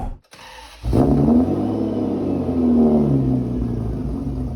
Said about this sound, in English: Let's fire up that world famous flat 12 engine.